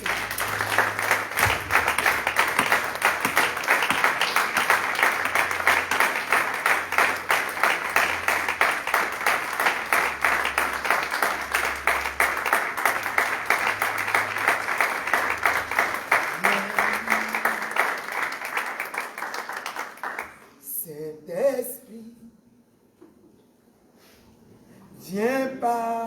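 Church congregation applauding and cheering after a prayer, dense sustained clapping for about twenty seconds with crowd voices, then fading into scattered sounds and a voice.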